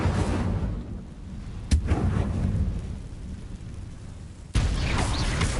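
Incendio fire spell cast in a video game, a deep rumbling roar punctuated by two sharp cracking bursts, loud and sustained.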